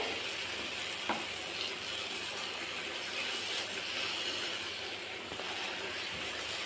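Moong dal halva cooking in ghee sizzles and crackles steadily in the pan while being stirred, a close, even frying hiss with faint scraping throughout and no talking.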